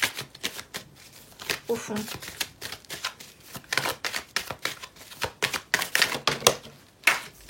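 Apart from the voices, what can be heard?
shuffling tarot cards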